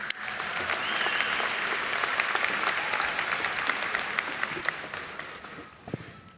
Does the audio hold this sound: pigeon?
no